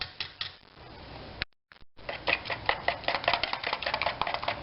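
Egg whites and yolks being whisked together in a bowl, a fast regular clatter of whisk strokes that pauses briefly, then resumes even more steadily, close and clear.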